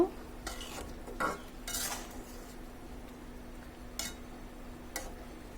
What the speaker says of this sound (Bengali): এখন হালকা একটু নেড়ে দেব।